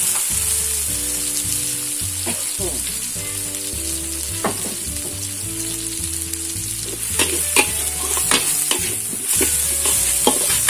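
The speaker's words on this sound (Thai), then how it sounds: "ผัดให้หอมเลยนะครับ" Canned fish stir-fried with chili and garlic in a pan for Thai basil stir-fry sizzles loudly and steadily, with repeated scraping strokes of a spatula close up.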